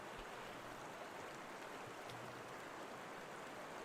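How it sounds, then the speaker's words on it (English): An electric fan runs indoors, giving a steady, even whoosh of moving air that holds constant at low level throughout, with no talk over it. "so I'm gonna turn on my fan here."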